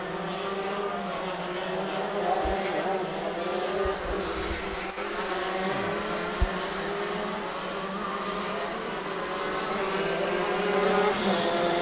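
Racing karts at Adams Motorsports Park buzzing past down the start-finish straight in a league race, high whining engines rising and fading over continuous track noise, with a few brief thumps.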